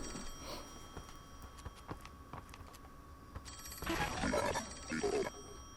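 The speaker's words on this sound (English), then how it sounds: "Answer the phone." A telephone rings in the Travis Strikes Again video game, starting as faint clicks and ticks, then turning into a louder, clear ringing burst near the end.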